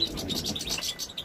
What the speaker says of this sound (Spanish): Cosita más bonita de pájaro